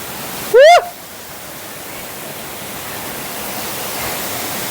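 The Edubavula waterfall gives off a steady, even rush of falling water, briefly interrupted near the start by a short, loud rising whistle.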